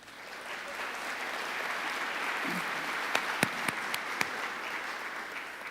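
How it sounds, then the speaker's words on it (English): Steady applause from a crowd at an Assembly of First Nations gathering, sustained and moderately loud across the whole stretch, with a few sharper claps standing out near the end. "I think you should give yourselves a round of applause"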